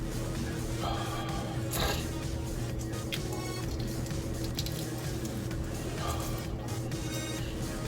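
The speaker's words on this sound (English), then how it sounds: "the shell will come off of this egg like you would not believe" Wet hands peel the shell off a boiled egg, giving soft squishy crackling and slipping sounds over a steady background hum.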